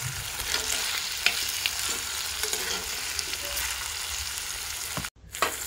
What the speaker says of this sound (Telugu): ఇలా వేసుకున్న తర్వాత ఈ రొయ్యల్ని ఒక 2 నిమిషాలు ఫ్రై చేసుకోవాలి.